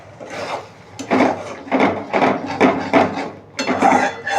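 A cooking pot's lid is lifted and the contents of a paneer butter masala are stirred, giving repeated scraping, clinking strokes in an uneven rhythm, close and fairly loud, with no talking.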